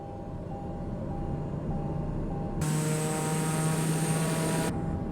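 An aircraft engine drones steadily on a flight near Mount Kenya, a constant close propeller hum that grows fuller and louder partway through as the throttle is pushed forward, with no voices.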